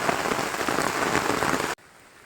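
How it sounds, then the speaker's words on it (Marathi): Heavy rain drums on surfaces in a Konkan village, a loud steady roar that cuts off abruptly near the end. "पाऊस आला आणि आत्ता मी सुतारवाडीत पोहोचलोय."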